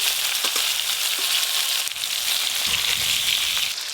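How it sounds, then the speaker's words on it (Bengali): Hilsa fish frying in a pan, a steady, loud, close sizzle and crackle of hot oil that continues without pause, with a few faint clinks. "ইলিশ মাছ একটু হালকা করে ভাজবি রে"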